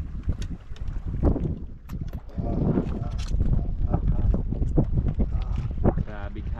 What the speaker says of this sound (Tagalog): Grabing hangin eh.